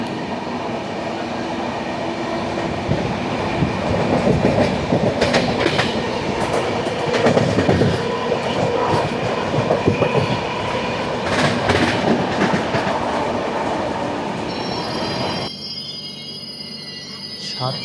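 Kerala Express passenger train running on rails, a continuous loud rumble with rhythmic clickety-clack of wheels over joints and occasional rattling bursts, quieter toward the end.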